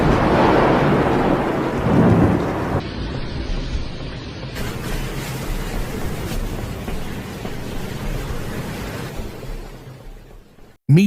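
A heavy thunderstorm in the United Arab Emirates: a loud thunder rumble comes early, then dense, steady torrential rain keeps hissing and gradually thins out near the end.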